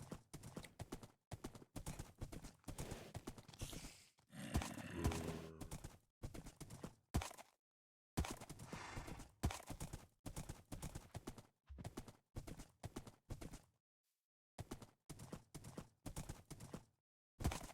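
Horse hooves clip-clop in Minecraft, crisp rapid bursts of hoofbeats broken by short silences, with a brief whinny partway through; no talking.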